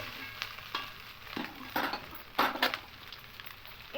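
Maggi noodles being mixed with flour in a pan, with soft scraping and a spatula knocking against the metal in irregular strokes over a faint sizzle. The sound is close and fairly quiet.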